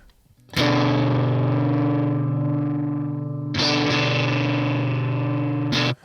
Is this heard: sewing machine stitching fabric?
no